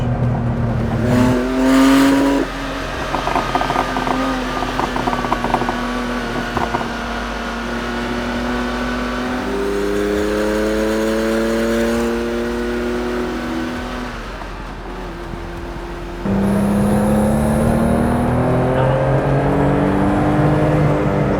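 A Porsche 930 Turbo engine revs hard and climbs through gears on a Norwegian fjord road, pitch rising and dropping repeatedly as it accelerates, loud and close from inside.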